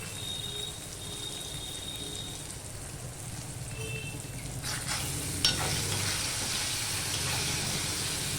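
Mango pieces are stirred through sour dal in a hot pan, giving a steady, fairly close sizzling and scraping that runs without pause for the whole stretch, with no voices over it.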